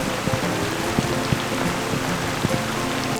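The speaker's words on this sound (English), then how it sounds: "Right on time for the first rains." Rain falls at the start of the rainy season, a dense, even hiss of drops striking surfaces close by, broken by a few louder individual drips, with no one speaking.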